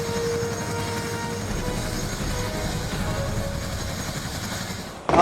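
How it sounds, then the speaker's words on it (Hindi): An Mi-17 helicopter flies in carrying people rescued after a cloudburst disaster in Dharali, Uttarkashi, its steady rotor and engine roar filling the air continuously before a sharp louder noise at the very end. "आप देख सकते हैं कि हेलीकॉप्टर अभी जो धराली में फंसे हुए लोग थे उनको हेलीकॉप्टर यहाँ पर लेकर पहुँच रहे हैं"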